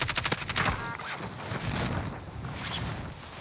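Rapid bursts of automatic gunfire in Call of Duty Warzone, a quick volley of close shots up front followed by a sustained, dense roar of firing and explosions.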